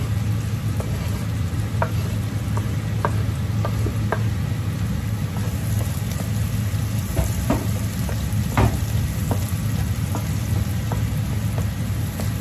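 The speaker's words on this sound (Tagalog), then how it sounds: "Ilagay na rin natin yung bawang." Garlic frying in a pan for meat sauce spaghetti, a steady dense sizzle and crackle with scattered light ticks of spatter throughout, loud and close with no talking.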